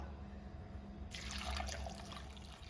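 Water streams into a clay pot for Kerala kalan in one brief pour that starts partway through, a soft close trickle and splash over a low background hum.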